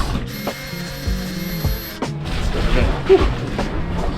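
Screws for a Scanstrut cable seal being driven in on a boat, with a ratcheting tool clicking in short repeated bursts and a few knocks, close and loud, no talk.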